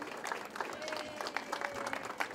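An outdoor audience applauds at a mural unveiling honouring immigrants, with a steady wash of many hands clapping at close to middle distance, lightly mixed with crowd murmur throughout.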